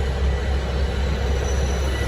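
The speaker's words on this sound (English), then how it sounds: "we're just standing here watching trains run." Roller coaster trains running on the Orion ride at an amusement park, giving a loud, continuous low rumble and roar of wheels on track, steady throughout with no voices.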